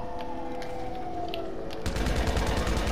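Rapid automatic gunfire bursts out in a video game, a dense rattling volley that starts abruptly partway through and continues loud to the end, after quieter background sounds.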